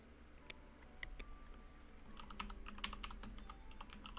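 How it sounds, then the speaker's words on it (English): Fingers type on a computer keyboard in a soft, rapid patter of clicks and taps, quiet and close, growing slightly busier toward the end with no talking. "I'm going quiet because I'm typing."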